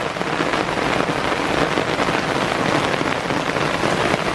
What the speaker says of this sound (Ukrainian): закінчилась злива в нас